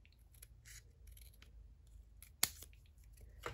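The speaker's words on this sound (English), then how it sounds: "And then I'm just going to cut it in half and eyeball the middle." Scissors snip through two stacked strips of craft paper, cutting them in half with a run of soft crisp cuts and one sharper closing snip, close up with no voices.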